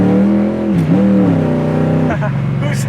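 A 1966 Chevy Nova pro-street car with big rear tires accelerates hard, its engine roaring loud and close with a shifting pitch as the rear tires spin, then a brief dip and a second surge.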